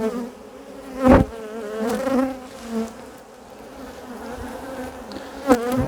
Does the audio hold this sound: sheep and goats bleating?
no